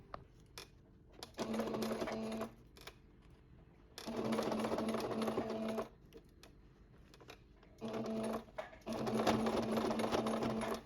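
A sewing machine stitches a summer fabric crossbody bag in three loud bursts of steady mechanical whirring, broken by short pauses with light handling sounds.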